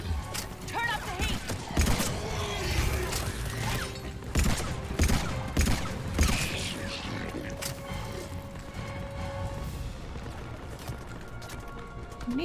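Gunfire in the Mass Effect video game: a run of sharp shots and impacts in a dense, busy mix, with a voice speaking over the action.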